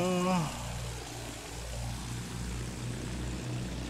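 A propeller plane flies in the Battlefield 1 video game, its engine drone sweeping in pitch as it passes overhead, steady and fairly loud, after a brief tonal sound at the start.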